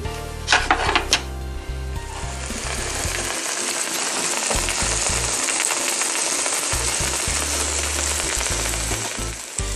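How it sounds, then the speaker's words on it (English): Pancake batter sizzles and crackles loudly in a hot pan, a steady frying hiss after a few clattering knocks at the start. "as you're cooking it and you're seeing the center starting to bubble up"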